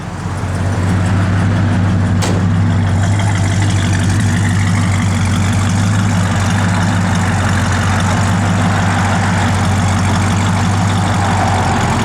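A 1968 Plymouth Road Runner engine, running on pump gas, idles steadily and loudly up close, a deep even rumble that holds for several seconds with a brief click early on.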